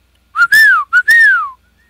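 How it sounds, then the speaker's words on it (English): A person gives a loud, sharp two-part whistle to call dogs, each note rising and then falling, heard close with nothing behind it. "it's just a dog whistle that I use that the dogs around me, they respond to."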